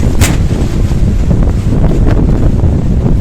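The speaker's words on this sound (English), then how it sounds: "Very windy today." Strong outdoor wind buffets the microphone in a loud, continuous low roar with gusting rumble throughout and a brief sharper burst near the start; no talking.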